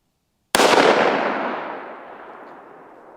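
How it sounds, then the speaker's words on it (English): A single powerful gunshot fired at a target outdoors, one sharp loud crack after a moment of silence, followed by a long rolling echo that slowly fades. "Shoot the first two at 100. See what recoil's like."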